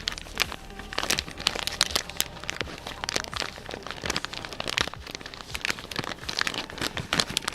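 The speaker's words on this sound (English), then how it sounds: "Maybe he's crinkling the bag for the rest of the audience that appreciates that noise." Close, continuous crinkling of a plastic bag, with dense irregular crackles and rustles that keep going without a break.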